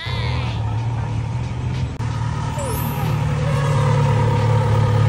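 A Kawasaki inline-four motorcycle engine, the same unit as the C900, revs close by in a steady, loud drone that rises slightly toward the end, with a voice talking over it.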